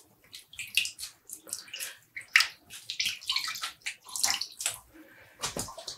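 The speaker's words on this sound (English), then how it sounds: "I'm just grabbing one of the zip ties and squeezing out the water." Wet dyed yarn is squeezed by hand over a bowl of soapy water, producing a series of quiet, irregular splashes, drips and trickles, close and soft.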